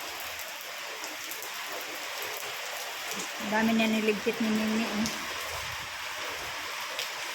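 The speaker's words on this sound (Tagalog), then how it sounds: "Yan, malakas yung ulan." Heavy rain pours steadily after a typhoon, a dense even hiss filling the whole stretch, with a voice speaking briefly near the middle.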